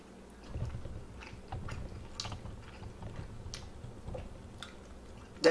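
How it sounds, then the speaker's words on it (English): Someone chewing a bite of barbecued ribs with crispy, crunchy edges and a tender center, close up, with soft wet bites and small crunches in a steady, quiet rhythm and no talking. "Let me take another bite."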